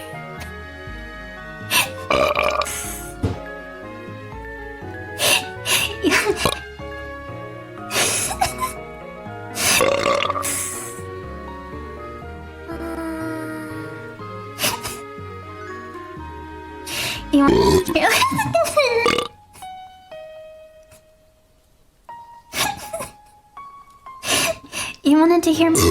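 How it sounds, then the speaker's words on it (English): A young woman burps over and over, loud and close, with long drawn-out belches and short ones separated by pauses, some with her speaking or groaning between them. "You wanted to hear me burp, so here it is."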